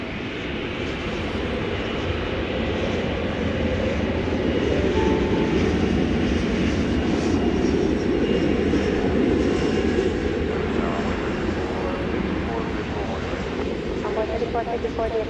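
A fixed-wing aircraft's engines roar steadily at DFW Airport, a loud, continuous broadband rumble that holds throughout with a slight swell in the middle, as heard from near the runway at night; a voice is audible faintly in the background.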